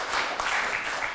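Forum audience giving brief applause in a lecture hall, a short, soft burst of scattered clapping lasting about a second.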